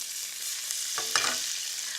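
Capers hit a hot pan of oil for spaghetti al tonno, giving a steady sizzling hiss with a brief burst of crackle as they land and begin to crisp.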